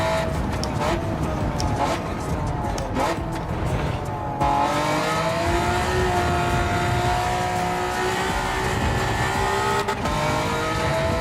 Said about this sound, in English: You can almost hear it in the car's motor too. Just a little bit more after red line,